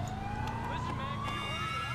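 An ambulance siren in GTA IV wails in a steady rising sweep over a low engine drone, loud and continuous, close by throughout with traffic rumble beneath.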